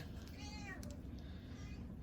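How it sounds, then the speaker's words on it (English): A cat meows a couple of times in the background, with harmonic rising-falling calls over a steady low rumble of room noise. "if you hear any meowing in the background"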